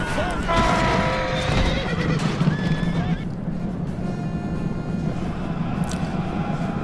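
Noble cavalry charge in a Rome Total War battle against Carthaginian Sacred Band horsemen, with horses neighing and whinnying over drumming hoofbeats and a dense battle din, while someone speaks over the action.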